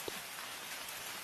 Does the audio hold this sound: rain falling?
yes